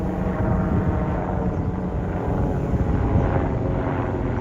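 A police helicopter flying over the sea sounds as a continuous, fairly loud engine and rotor roar with a windy rumble, steady throughout and without speech.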